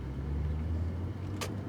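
A Porsche 911 996 Carrera 4S engine runs with a low, steady idle rumble and a faint hum, heard alone and fairly quietly, with one brief sharp click near the end.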